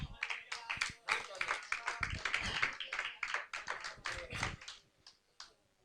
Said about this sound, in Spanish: Tú puedes darle un aplauso al Señor.